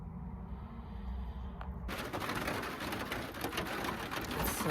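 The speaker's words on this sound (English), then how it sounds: "It's so loud with rain." Heavy rain drums on the roof of a truck used for sleeping on a November night in Northern California: a soft hiss that suddenly swells into a loud, dense, steady patter.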